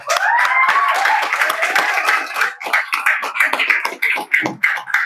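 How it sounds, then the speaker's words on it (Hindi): Audience clapping at a Muslim business programme event in India, a dense burst of applause with a few whistles that gradually thins into scattered claps over about five seconds. "जोरदार तालियां हो"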